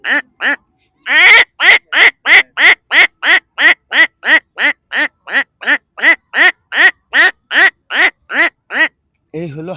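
A person mimics a duck, giving a long run of rapid, loud, evenly spaced quacks up close, with brief vocal sounds at the start and end.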